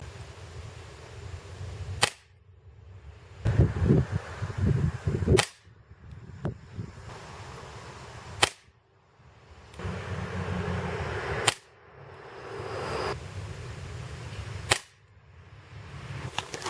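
A Gamo Bull Whisper air rifle fires into ballistics gel, with five sharp, close shots spaced a few seconds apart and rustling handling and reloading noise between them.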